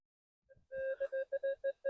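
Metal detector signal while searching for coins and artifacts in Czechia, a clear pulsing electronic tone in a series of short beeps following a couple of faint soft knocks.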